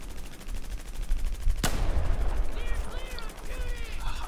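Gunfire in a first-person shooter video game: one sharp, loud crack followed by a rumbling tail and a rapid stuttering burst, with a voice talking over the shots.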